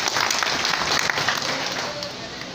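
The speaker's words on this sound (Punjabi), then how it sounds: "ਉਹਨਾਂ ਦੇ ਨਾਂ 'ਤੇ ਜ਼ੋਰਦਾਰ ਤਾੜੀ" An audience at a Congress party gathering in Phagwara breaks into loud, sustained applause, a dense wash of clapping that holds steady throughout and fades slightly toward the end.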